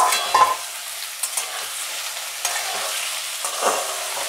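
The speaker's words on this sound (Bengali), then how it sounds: "এবার আলু ভাজাগুলো দিয়ে দেবো" Fried potato pieces sizzle in a pan while a utensil stirs them, with scraping bursts near the start and end over a steady frying hiss.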